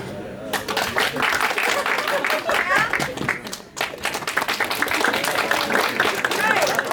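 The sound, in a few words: audience clapping loudly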